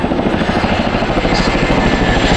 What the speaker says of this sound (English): Two very different Boeing aircraft in juxtaposition there as the Chinook overflies the B-70.